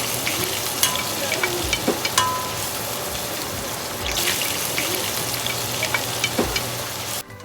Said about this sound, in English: With my wok on the stove, oil added, I saute the onions like so